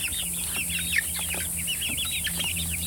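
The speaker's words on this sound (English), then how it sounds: "There are 31 chickens, and they're all present and accounted for." A flock of 31 chickens clucks and peeps steadily, many overlapping calls close by against a low constant hum.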